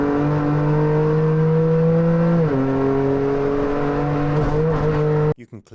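A Toyota GR Cup race car engine drones loud and steady through a corner on track, its pitch dipping briefly before holding again as the throttle is picked up, then cutting off abruptly near the end.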